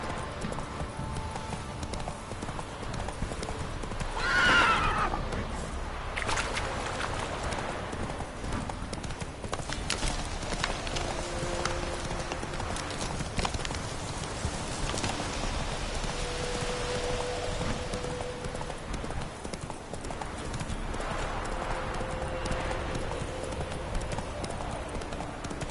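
Horse hooves clip-clop steadily at a riding pace through a game landscape in The Witcher 3, with rain pattering in the background and a brief louder burst near the start.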